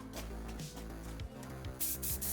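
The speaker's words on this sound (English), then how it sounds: "hit him with a couple of coats of matte grey primer spray" Matte grey primer is sprayed from an aerosol can onto a 3D-printed action figure. Faint, quiet hissing bursts come near the end of a low background.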